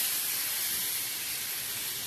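A mixture of chopped onion, chilli and coriander sizzling on a hot griddle, a continuous bright hiss heard up close without talk.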